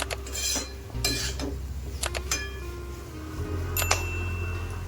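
A spoon stirs a vegetarian bottle gourd curry with lentil dumplings in a pan over low heat, making scattered metallic clinks and scrapes, close up, over a soft steady hum with no voices.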